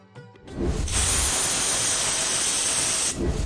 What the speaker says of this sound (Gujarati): હવે આને આપણે 2 વિસલ વગાડી લઈશું પહેલા.